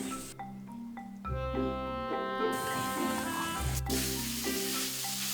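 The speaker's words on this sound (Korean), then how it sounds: "우선 뜨겁게 달구어진 가마솥에 소고기를 볶습니다" Beef stir-frying in a hot iron cauldron over a wood-fired hearth gives a loud, steady sizzle and hiss, with clanking and scraping as the meat is turned.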